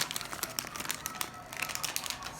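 Plastic-wrapped diffuser cartridge package being torn open by hand, producing close, busy crinkling and crackling bursts across the whole moment with no talk.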